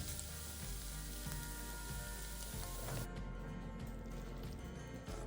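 Preserved mustard greens in a wok give a continuous, dense sizzle that fills the whole stretch, with soft shuffling from the food being moved, close up and without voices.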